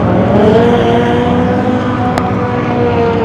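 A JDM drift car works around a track corner at a drift event in Nikko, its engine a steady, loud drone that holds and shifts in pitch through the slide, with no voices over it.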